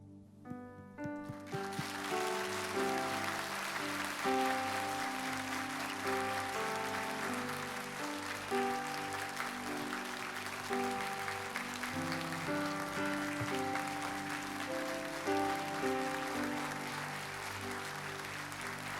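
Church congregation applauding during a Sunday worship service as flowers are presented, sustained loud clapping that starts abruptly and continues evenly for about seventeen seconds.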